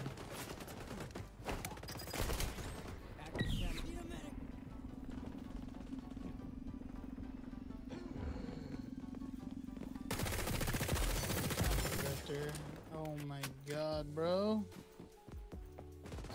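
P90 submachine gun fire in the shooter game XDefiant, with bursts of rapid shots amid other battle sounds. A sustained tone and scattered effects run throughout, and speech is faintly present, all at low overall volume.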